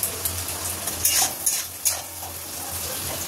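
Spice paste for a soybean kofta curry fries and sizzles in a pan while a utensil stirs and scrapes it, with a few sharper clinks of metal on the pan and no talking.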